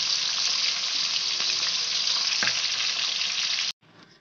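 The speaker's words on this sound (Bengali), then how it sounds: "সব মাছগুলোকে এইভাবে ভেজে নেবো আমরা।" Pomfret fish frying in hot oil for a restaurant-style curry, a steady loud sizzle with crackling that cuts off abruptly near the end, followed by a fainter sizzle.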